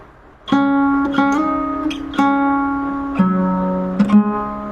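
Acoustic guitar plucked note by note in a slow intro pattern for a song, clear and close, each string ringing into the next with no voices.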